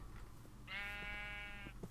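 A single drawn-out Minecraft sheep bleat, steady and tonal, lasting about a second over a low background hum; fairly quiet.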